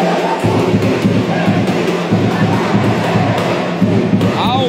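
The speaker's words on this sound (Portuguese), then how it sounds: "Aumenta o tom a torcida dos mulambos." Football supporters in the stands of a Brazilian amateur cup semifinal roar and chant as a loud, sustained crowd swell, with a commentator talking over the noise.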